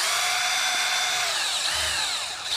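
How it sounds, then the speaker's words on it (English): A power drill whines steadily at close range, its pitch shifting slightly as it bores pilot holes while installing a tiki bar roof. "I'm going to go ahead and drill some pilot holes in here"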